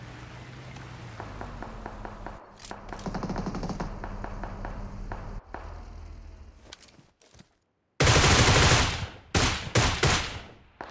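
Video game gunfire crackles in bursts and rapid automatic volleys, pausing briefly and then returning in a loud, dense barrage toward the end, with no talk over it.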